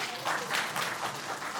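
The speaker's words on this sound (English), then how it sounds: "Another round of applause for Mr. Kim Pham, please." Audience applause after a product demo at a company launch event, a steady wash of many hands clapping at moderate level for a short burst.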